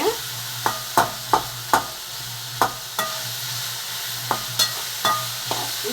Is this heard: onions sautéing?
yes